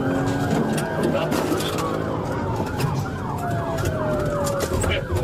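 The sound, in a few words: police car siren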